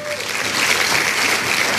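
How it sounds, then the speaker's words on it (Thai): Steady applause from a group, continuous and fairly loud throughout, with no other sound standing out. "ปรบมือให้ตัวเองหน่อยจ้า"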